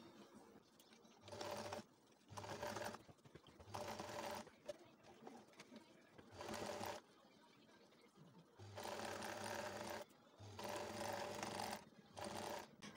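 A sewing machine stitches a shoulder dart on a bustier in several loud, close bursts of whirring, separated by short pauses of near quiet.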